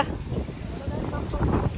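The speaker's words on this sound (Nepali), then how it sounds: "त्यति जोड हावा छ" Strong wind gusting outdoors while cycling in Cyprus with a Nepali flag flapping and a bicycle blown over; a steady, loud broadband rush buffets the microphone for the whole stretch.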